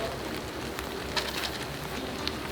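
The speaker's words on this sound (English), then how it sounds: "then I just dig them in like that, and they get cooked just with the steam" Clams steaming in a seafood paella pan with bomba rice and shrimp, giving a continuous soft hiss and crackle with scattered small pops.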